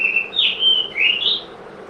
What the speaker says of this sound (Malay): Burung siapa berkicauan tu?